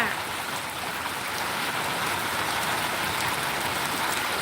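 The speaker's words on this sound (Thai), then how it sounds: "ตอนนี้ฝนตกนะคะ" Light rain falls steadily outdoors by a roadside market, a soft continuous hiss of drops on surfaces, fairly faint and even throughout with no voices.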